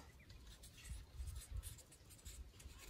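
Pen or marker scratches across a board in a genetics lesson, soft irregular strokes close by and fairly quiet, with no one speaking.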